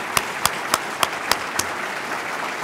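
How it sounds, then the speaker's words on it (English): Sharp, evenly spaced hand claps ring out over a steady wash of crowd noise, a brief rhythmic burst of applause. "He needs a bigger round of applause than that."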